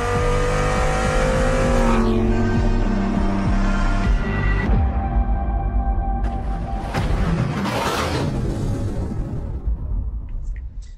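A Lamborghini Huracan STO super sports car engine revs hard and loud, a dense roaring rumble with shifting pitch and surges of acceleration, close and continuous for the whole stretch, with no voices.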